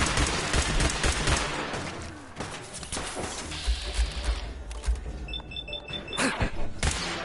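Fallout 4 weapon fire with explosive rounds that burst on contact: dense, rapid volleys of loud shots and booms pounding throughout, with scattered thuds and sharper bangs near the end.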